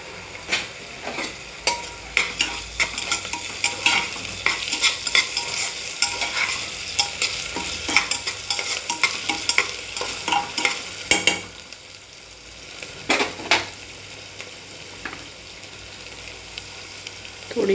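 Onions fry with ginger garlic paste for soybean pulao, a spoon scraping and stirring in quick clattering strokes over a continuous hiss of sizzling oil, then quieter sizzling with occasional stirs.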